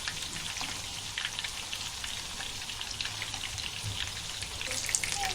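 Surmai fish fillets coated in masala fry in a pan over medium gas, giving a steady close crackle and sizzle of hot oil that continues throughout without any talking.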